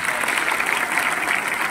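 An audience in a stadium hall claps steadily, a dense, even wash of applause that holds for a couple of seconds at moderate loudness.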